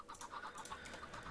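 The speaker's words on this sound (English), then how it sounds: "that should be all of the chickens" Minecraft chickens cluck in a quick, soft run of short repeated calls, several birds close together at low volume.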